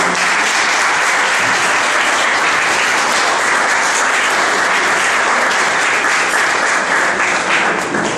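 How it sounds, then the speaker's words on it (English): Sustained, even audience applause fills the hall at a tribute event for a doctor at KASBIT, loud and dense throughout with no pauses. "Please give a huge round of applause."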